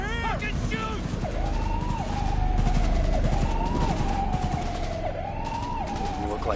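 Rapid automatic gunfire in a Cyberpunk 2077 cutscene rattles steadily under wailing police sirens, with voices shouting over the shooting.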